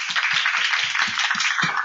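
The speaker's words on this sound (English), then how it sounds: "let's applaud for the speakers and everyone." An audience claps for the speakers at the close of a talk session, a steady series of distinct claps in a roughly even rhythm over a bright, hissy backdrop.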